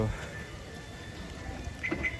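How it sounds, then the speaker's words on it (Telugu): Heavy rain falls outdoors, a steady, soft wash of patter that runs evenly through the whole moment, fairly faint and distant, with no talk over it. "కానీ ఫుల్ వర్షం పడుతుంది"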